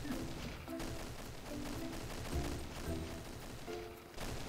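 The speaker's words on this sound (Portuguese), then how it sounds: "Para de atirar!" Rapid bursts of video game gunfire in Roblox Fortnite Tycoon, several short volleys of repeated shots with steady background noise, fairly loud.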